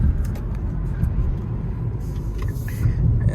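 A 2023 Kia K5 GT Line with an 8-speed automatic pulls briefly under throttle, giving a steady low engine rumble heard from inside the cabin with no clear shift breaks.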